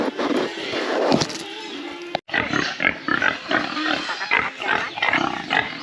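Farm pigs eat special feed mixed with water, giving loud, close, irregular grunts, snorts and squeals that come in quick bursts with brief gaps between them.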